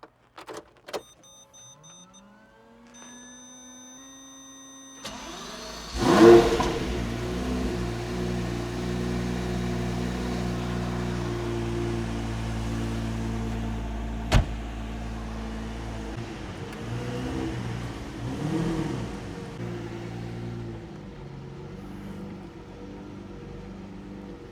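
A Lamborghini V12 fires up after a few soft clicks and chimes, catching with a sharp bark and then settling into a loud, steady idle with a couple of brief revs, heard from inside the car without speech.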